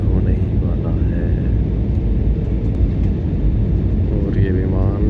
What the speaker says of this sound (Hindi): ये अभी जयपुर एयरपोर्ट पर विमान लैंड होने ही वाला है